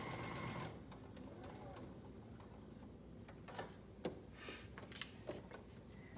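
A sewing machine stitches a shirt. It runs with a steady mechanical hum, then gives a few sharp ticks and clicks as it slows, and there is faint talking in the background.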